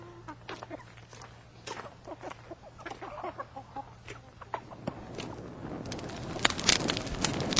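Hens cluck in a scene from an Iranian film: a run of soft, close, irregular clucks, later mixed with rising rustling and scratchy movement noise.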